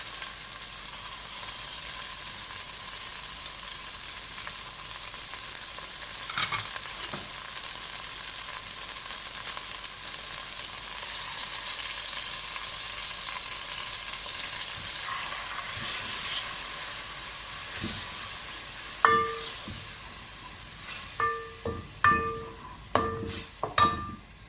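Barley, moong dal and coarse rice roasting dry in a pan give a soft steady sizzle for a long stretch, ending with sharp clinks and scrapes of a spoon stirring against the metal.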